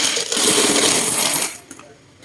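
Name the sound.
coins dropping from Ipon Challenge savings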